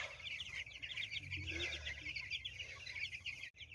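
Several chickens on pasture cluck and murmur steadily close by, a continuous busy chatter of farmyard birds with no one talking.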